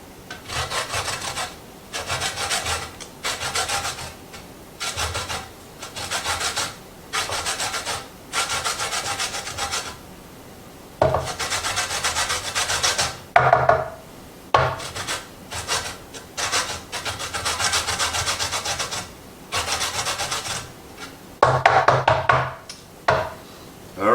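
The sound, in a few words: zesting a lemon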